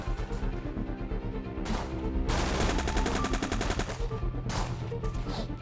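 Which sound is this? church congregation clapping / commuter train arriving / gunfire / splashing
gunfire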